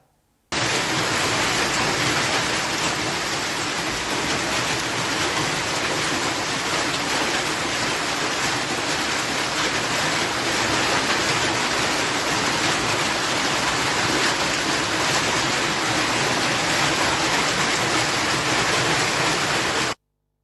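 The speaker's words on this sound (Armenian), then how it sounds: "Ուժեղ կարկուտ է տեղացել նաև Գավառում" Heavy hail pounding down in Gavar, a dense, steady roar of ice striking surfaces that runs unbroken and loud for the full length, with no voices.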